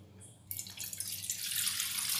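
Water from a glass splashes and pours steadily into a pan after a faint drip, the rushing sound growing fuller and louder over a couple of seconds.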